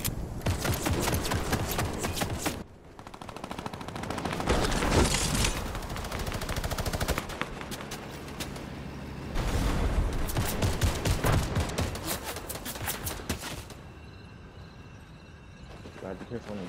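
Rapid gunfire in a video game's team rumble mode, dense automatic bursts and overlapping shots in repeated clusters with brief pauses, loud and close, with a voice talking over parts of it.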